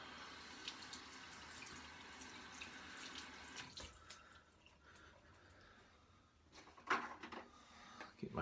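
Water from a bathroom tap runs to wet a shaving brush, a soft steady stream for a few seconds that then thins out, followed by faint handling clatter and a sharp knock near the end.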